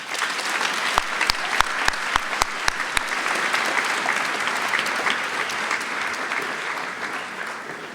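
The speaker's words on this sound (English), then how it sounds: "Would you give them a round of applause?" An audience applauds steadily, a dense wash of clapping that holds for several seconds with a few sharper claps standing out early on.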